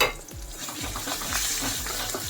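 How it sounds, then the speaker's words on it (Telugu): Ginger garlic paste frying with softened onions in a pan for mushroom masala curry, a close steady sizzle with repeated rhythmic stirring scrapes of a spoon against the pan, no voices. "కొద్దిగా అల్లం వెల్లుల్లి పేస్ట్ వేసి వేయించుకుందాం"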